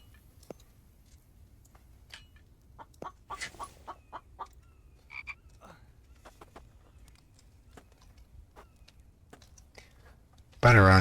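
Chickens in The Infected video game give scattered short clucks and squawks over quiet in-game ambience, ending in a sudden loud burst of noise.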